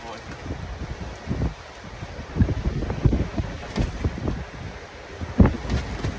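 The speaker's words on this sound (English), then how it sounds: "Holy, that wind gust is crazy right now." Strong outdoor wind gusts batter the microphone in loud, uneven rumbling bursts that swell and fade over several seconds, with a bigger gust near the end.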